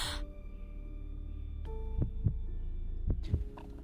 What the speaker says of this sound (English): Her heartbeat quickens in her chest.